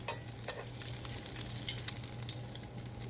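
Chicken cordon bleu pan-frying over medium heat, a soft steady sizzle with scattered faint crackles and pops, quiet and continuous without speech.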